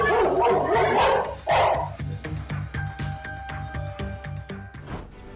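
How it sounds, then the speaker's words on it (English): Two aggressive dogs bark at a little boy, loud close yips and barks in a quick, uneven series lasting several seconds, with some higher whining notes mixed in. "It would be a bad day for these two aggressive dogs as they deliberately scared this little boy."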